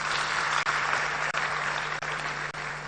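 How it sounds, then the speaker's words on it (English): A crowd at a political party's app launch event gives sustained, even applause, thick and continuous clapping with a faint electrical hum underneath and a few brief dips. "Let's give him a round of applause, please."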